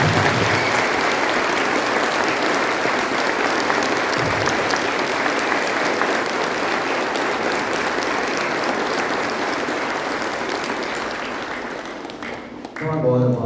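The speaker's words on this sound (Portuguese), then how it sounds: "Nossa comunidade está alegre, feliz e por isso acolhe vocês com uma salva de palmas." A church congregation at a parish in Perobal, Paraná, breaks into steady, full applause to welcome 33 newly invested altar servers. The clapping is dense and sustained, then thins out and fades near the end.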